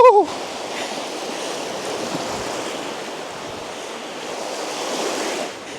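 Steady roar of surf breaking and washing along the shore at Calgary Bay, Isle of Mull, broad and continuous, with a brief burst of wind noise at the start.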